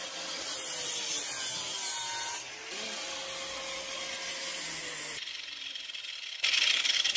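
A grit-40 flap disc on an angle grinder grinding rusty, nitro-painted metal: a continuous abrasive whine and rasping scrape, close and fairly steady, dropping quieter then surging louder near the end; no speech.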